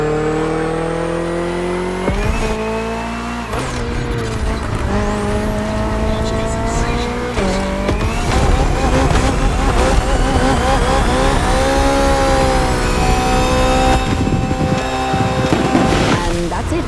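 A BMW hybrid V8 race car in The Crew Motorfest roars up close, revving hard through several gear shifts with sharp pitch drops between rising pulls, loud and continuous throughout.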